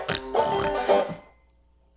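A human voice imitates a pig, giving a few short, nasal, grunting oinks close to the microphone before trailing off into near silence.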